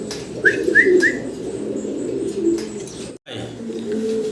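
Fancy racer pigeons coo in soft, low repeated calls, joined by a few brief higher chirps early on, with steady background noise from the loft and a short break near the end.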